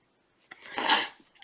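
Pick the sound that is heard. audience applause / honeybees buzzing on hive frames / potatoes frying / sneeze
sneeze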